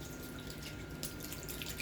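A chalk paste stencil transfer is rinsed in a small water bath, making faint, steady watery trickling with a slightly louder splash partway through.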